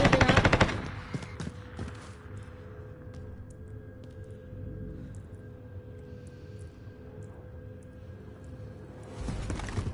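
Automatic gunfire from a video game: a loud, rapid burst opens, then a steady low hum runs underneath until another burst of shots hits right at the end.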